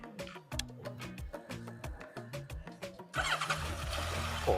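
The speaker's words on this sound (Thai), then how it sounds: "มาฟังเสียงเครื่องยนต์กันหน่อย" A 2015 Honda CB1100 motorcycle starter cranks in rapid repeated chugs, then the engine catches and settles into a steady, slightly rough idle.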